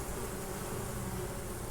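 Bees near a hive after a swarm give a faint, continuous buzzing hum, unbroken and without voices.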